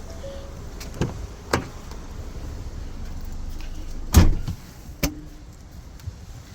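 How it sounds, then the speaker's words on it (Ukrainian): The power tailgate of a 2017 Ford Edge shuts with a few distinct mechanical clunks and a heavier latching thump near the middle, each brief and close, over a quiet hum. "закриємо багажник, електропривод нам в цьому допоможе"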